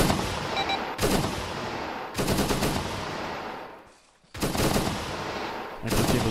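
Video game gunfire from an AK-74 style rifle, heard as loud close bursts of rapid automatic fire separated by short pauses, with a brief near-silent gap before the shooting resumes.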